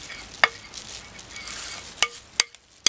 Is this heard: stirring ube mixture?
yes